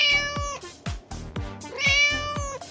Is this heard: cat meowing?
yes